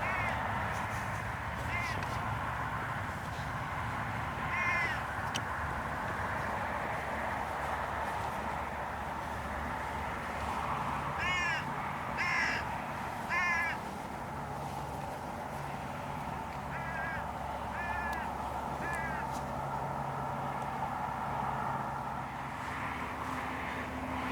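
A crow flies overhead calling out in repeated harsh caws, scattered in short bursts above a steady outdoor rumble that sounds like distant aircraft, with the calls moderately distant.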